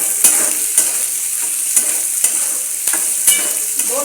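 Finely chopped onion fries with chapati pieces in a pan: a loud, bright, continuous sizzle broken by regular scraping clicks of a spoon about every half second.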